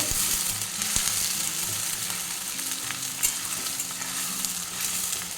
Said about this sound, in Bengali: মাছটাকে ভালো করে ভেজে নেব